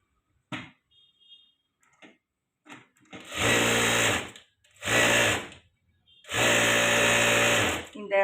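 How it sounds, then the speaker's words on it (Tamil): A sewing machine stitches folded blouse fabric for a princess-cut blouse in three loud, close whirring bursts of a second or two each, following a few faint clicks and brief handling sounds. "இதை நான் மடித்து அடிச்சிடுறேன்."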